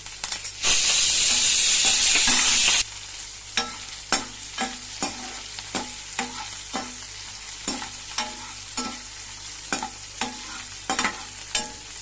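Onions and curry leaves frying in a pan for a tamarind curry: a loud burst of sizzling hiss at the start, then a steady series of spoon scrapes and stirring taps over a quiet background.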